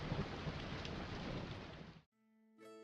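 Steady rain pours down as a dense, even hiss for about two seconds, then cuts off abruptly and gives way to a brief sustained tonal sound.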